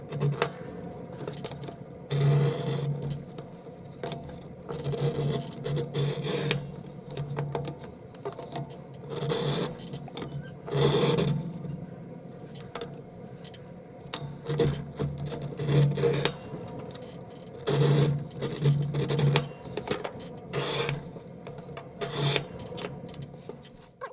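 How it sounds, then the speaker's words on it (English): Leather edges of a holster strap for a North American Arms Guardian being beveled by hand, giving repeated short scraping rasps in bursts, close and moderately loud, with quiet pauses between strokes and no talking. "let's go ahead and get these edges beveled."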